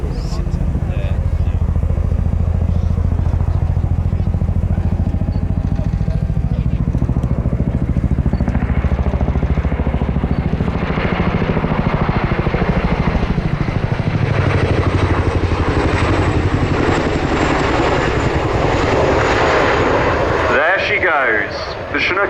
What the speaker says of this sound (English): Please turn your eyes to the sky for the 2025 Chinook roll demonstration.